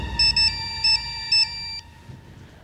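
A phone rings with an incoming call: a repeating electronic ringtone of four short beeping bursts over a steady tone, then it cuts off.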